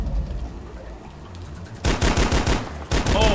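An automatic gun turret in a video game fires close and loud: after a low, rumbling lead-in, rapid bursts of heavy, bass-laden shots break out in quick succession, with no talk.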